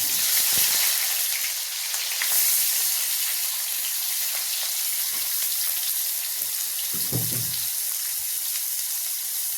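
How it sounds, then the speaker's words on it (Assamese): Onions frying in a pan until nearly brown, a steady bright sizzle with soft stirring knocks and a faint low thud, close and unbroken. "পিঁয়াজটো মই একদম ব্ৰাউন নোহোৱালৈকে ভাজি দিছোঁ।"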